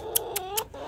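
Chicken clucking close by, three quick rhythmic clucks followed by a softer fourth, alone and clear within a single second.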